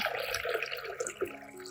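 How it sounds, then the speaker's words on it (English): Water poured into a large bowl while preparing a solution for soaking coriander leaves, a soft, continuous splashing and trickling at close range that stays fairly quiet and even throughout. "Pour water into a large bowl."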